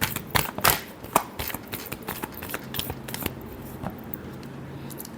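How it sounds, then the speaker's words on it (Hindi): Tarot cards being shuffled up close make quick papery riffles and sharp flicks in an irregular burst that thins toward the end. "last shuffle"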